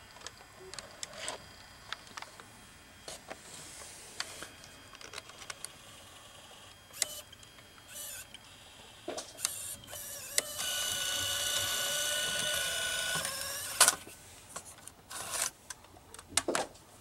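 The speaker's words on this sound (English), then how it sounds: "So the tape mechanism is still working, and the camera mode is still working too." A Fujix-8 F122SW 8mm camcorder's tape mechanism runs close up with faint whirring, scattered clicks and small mechanical knocks, building to a steady louder motor whir for a few seconds before more clicks.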